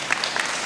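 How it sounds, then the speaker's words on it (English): Audience clapping at a high school graduation ceremony in Indianapolis, a dense, steady burst of applause that is fairly close and loud, alone without talk. "Yeah, you can applaud for that."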